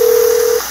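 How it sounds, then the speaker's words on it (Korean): A single steady telephone tone sounds during an unanswered call at a campsite, one loud, unbroken beep lasting just over half a second before cutting off. "은혜 전화 한번 해볼까?"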